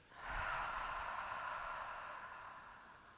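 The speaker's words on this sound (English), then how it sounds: "Big breath in. Big breath out." A single long, audible breath during a gentle yoga session for shoulders and neck, close to the microphone, swelling and then slowly fading over about three seconds, with no talking.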